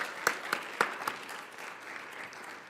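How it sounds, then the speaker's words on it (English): An audience at a lecture on nuclear weapon testing gives a speaker another round of applause: a soft, distant patter of many hands with a few sharper claps near the start, fading slightly toward the end. "Makhrijani another round of applause."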